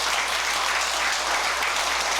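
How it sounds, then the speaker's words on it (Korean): Audience applauding at a Sunday Dharma service in a Buddhist hall, a steady dense wash of many hands clapping at even loudness throughout, with no voices over it. "박수를 한번 쳐보시죠."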